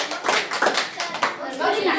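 Schoolchildren in a classroom clap loudly for a classmate, a few uneven bursts of hand claps over about two seconds, with children's voices mixed in.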